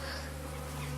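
Honey bees at an opened hive make a steady, close buzzing drone that holds without a break and with no voices over it.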